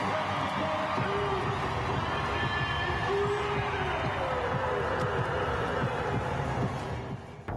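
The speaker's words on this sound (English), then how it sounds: "Did you hear that crowd welcoming BG back to the court?" A basketball arena crowd roars in welcome as Brittney Griner returns to the court, a dense sustained wash of cheering and whoops from many voices that fades out near the end.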